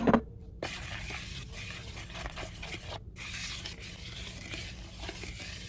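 Chocolate cupcake batter being stirred slowly in a bowl, a steady soft scraping and swishing that continues evenly after a brief pause near the start.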